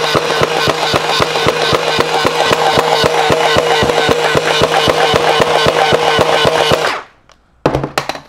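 A X-Shot Hyper Gel Gatling gel blaster prototype fires continuously in a rapid, steady stream of loud clattering shots for about seven seconds, then stops abruptly, followed by a brief final burst.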